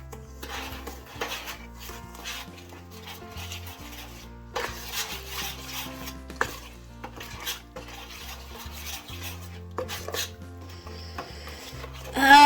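Spoon scraping and knocking in a bowl as milk is stirred into sweet potato cornbread batter, irregular close clinks and rubs with short pauses.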